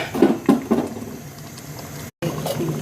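Water is poured into a pot of country chicken curry, starting with a few gurgling splashes. A steady, softer bubbling wash follows and continues to the end.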